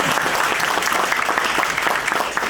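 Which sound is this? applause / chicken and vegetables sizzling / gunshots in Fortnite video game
applause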